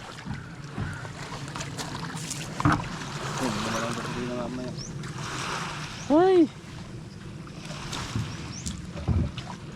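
Wooden paddles work a small boat at sea after its engine fails to start, with splashes and knocks over wind and water noise while people talk intermittently.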